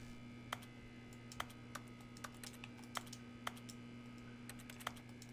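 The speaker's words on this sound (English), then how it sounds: "It plays like a keyboard sound effect. Like the sound of a key clicking." Soft, sparse clicks like keyboard keys from The Stanley Parable sound at irregular intervals, each a single crisp tick over a quiet, steady background hum.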